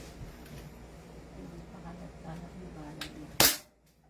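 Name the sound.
airsoft gun firing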